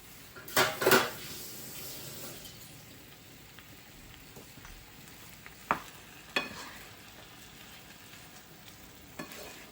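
Vegetables cooking in a pan for vegan meal prep, with a couple of sharp scrapes and clatters of stirring early on, then a steady soft sizzle broken by occasional light taps of the utensil.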